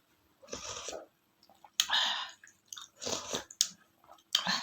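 Crispy fried fish being chewed up close, loud crunchy bites coming in separate bursts with short pauses between them, and no talking.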